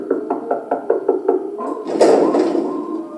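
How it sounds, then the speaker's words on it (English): Door-knocking sound effect in a children's Halloween read-aloud: about seven quick, even raps on a door, then a rougher, louder rumbling thud that swells and fades. "a zombie lurking about unbounded, moaning on my door he pounded"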